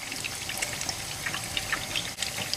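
Water pours from a tomato bottle into a cooking pot, a close, steady trickling splash with small gurgles and drips.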